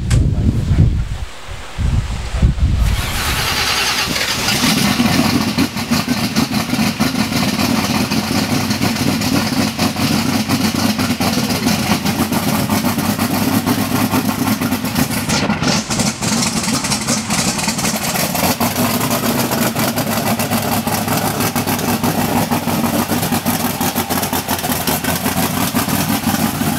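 Engine of the Spectre Bonneville race car at Speedweek starting up and then idling, a loud, rough, continuous rumble close by that holds steady for the rest of the clip.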